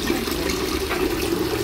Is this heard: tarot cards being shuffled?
no